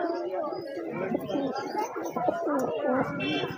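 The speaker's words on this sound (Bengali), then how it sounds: "এটা গিরিবাজ কালদমা পেয়ার আছে" Giribaj pigeons at a pet market coo in soft, repeated low calls that blend into a steady hum of crowd voices and nearby talk throughout.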